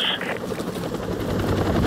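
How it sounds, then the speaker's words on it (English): Enemy helicopter in the video game Call of Duty: Modern Warfare, a loud, steady rotor roar with low thumping that holds throughout, close and continuous. "Enemy helicopters."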